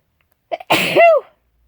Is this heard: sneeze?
yes